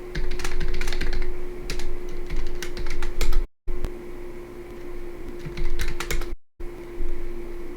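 Rapid clicking and clacking of keys typed on a computer keyboard, close and fairly loud, running in quick uneven bursts with two brief silent gaps.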